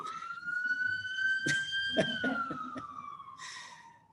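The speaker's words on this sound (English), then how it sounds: "Hold on, we have a special wailing siren going by." A wailing emergency siren passes by outdoors, holding a high tone that rises and then slowly falls, moderately loud at a distance, with a few knocks and clatters nearby.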